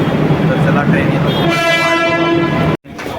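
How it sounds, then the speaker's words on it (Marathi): An arriving AC local train at a Mumbai railway station sounds a loud, sustained horn over heavy rumble and platform noise, then the sound cuts off sharply near the end. "तर चला ट्रेन येतो."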